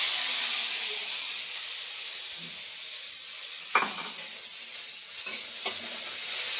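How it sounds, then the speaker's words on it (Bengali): Onion frying in a little oil in a pan on a home stove, a steady loud sizzle and hiss with a few clinks and stirring scrapes of a utensil against the pan. "এই যে পেঁয়াজটা ভেজে নিই"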